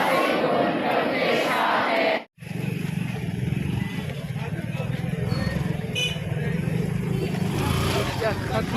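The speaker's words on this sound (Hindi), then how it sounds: "सारे लोग देखे कैसे भीड़, सब जा रहे हैं, सब रांची रांची चिल्ला रहा है।" A large outdoor crowd at a night vigil at Divine Mercy Ashram in Hazaribag shouts and chants together, a dense continuous roar of voices with vehicle engines and talk mixed in, briefly cut off once.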